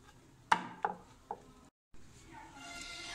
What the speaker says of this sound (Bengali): নেচি কেটে নিয়ে আমি বেলবো, এটাকে ময়দা দিয়েই বেলে নেব।